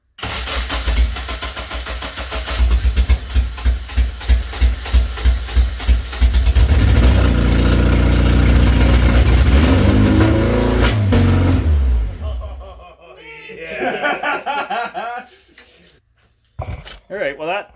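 A Toyota AE86 Corolla fitted with a swapped Honda K24 engine revs hard in a loud series of rapid blips, then holds a sustained high-rpm run before dropping away, with people talking nearby.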